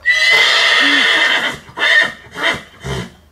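Chained stallion neighing loudly and close, a long shrill whinny followed by three shorter descending snorting bursts, no talking.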